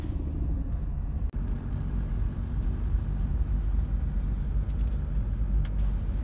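A car rolls into a harbour with a steady, loud low rumble of engine and road noise throughout, briefly dipping near the start before continuing evenly.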